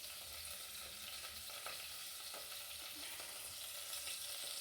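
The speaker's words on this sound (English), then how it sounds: "trying to fry onions to brown them" Onions fry in a pan to brown while rice is being cooked, giving a steady, even sizzle that holds throughout, with faint stirring.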